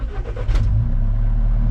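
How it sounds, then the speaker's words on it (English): An Alfa Romeo 4C engine cranks briefly and catches, settling into a loud, steady, low rumbling idle close by. "Start the car,"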